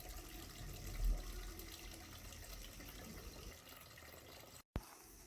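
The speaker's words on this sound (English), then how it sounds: "we add enough water to the beans and allow to boil." Water pours steadily into a pot of beans for a Nigerian Ewa Agoyin, a continuous filling splash that is quiet and up close, then stops abruptly near the end.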